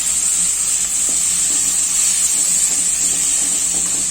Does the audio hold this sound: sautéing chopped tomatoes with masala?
yes